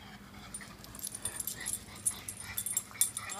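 Dogs awaiting a bath and a walk whimpering and whining, repeated high thin cries and yips in quick irregular bursts, close and moderately loud, no talking.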